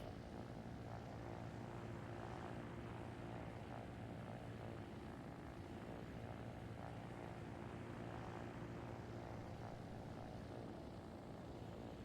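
A helicopter rotor in the video game Trailmakers drones steadily at a low volume, a constant whirring hum with no break and no talk over it.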